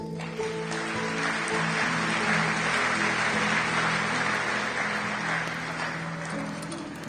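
A church congregation at a sermon bursts into sustained applause that swells to a peak midway and then slowly thins out, loud and fairly close, with no one talking over it.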